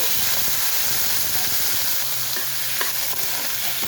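Garlic and mushrooms fry with spices in a pan, a loud, dense hiss of sizzling oil running throughout, broken by a few faint scrapes of stirring.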